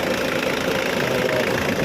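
A motorcycle engine idles steadily, freshly started and still cold, with a continuous close, loud rumble and a faint knocking rattle throughout.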